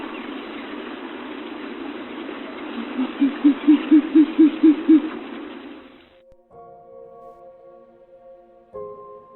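A nocturnal owl, a bird of prey, gives a series of about nine evenly spaced low hoots that swell louder over a soft hiss, then the background cuts out and a few faint tonal notes follow.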